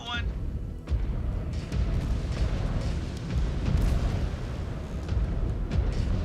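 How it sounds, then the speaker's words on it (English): Enemy artillery explosions in a mech combat video game rumble continuously as heavy, overlapping booms and bursts, loud and dense throughout with a sharp blast near the start. "Yep, that's their artillery doing its job."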